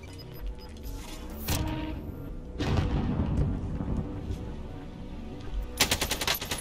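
Hip-fired automatic gunfire in Call of Duty Warzone, rapid bursts of shots breaking out in short flurries between quieter gaps, loud and sharp over game ambience.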